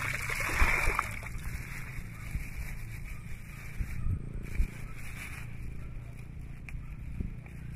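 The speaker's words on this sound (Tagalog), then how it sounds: "Kasi nasagi, hugasan muna natin yan." Water splashing as an item is rinsed by hand at a campsite, with intermittent splatters and a steady background hiss, and brief voices nearby.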